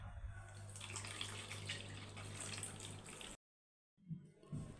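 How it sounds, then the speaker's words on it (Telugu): Water poured off soaked millets for ragi idli, a steady close splashing stream that runs for over three seconds, cuts to silence, then returns with a few brief splashes. "6 గంటలు ముందుగా నానబెట్టిన వాటిల్లో నుంచి నీళ్ళన్నీ వంపేసుకోవాలి."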